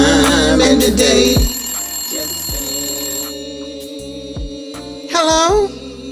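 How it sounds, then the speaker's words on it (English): A telephone rings with a bright, repeated electronic trill, loud and close, with a short pause between bursts and faint background music underneath. "When CeeCee answered the phone, she was surprised to hear Nokie's voice on the other end"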